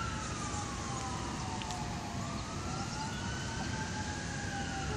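A distant emergency vehicle siren wails in slow rising and falling sweeps outdoors. It stays faint behind heavy, constant background noise, with no talk.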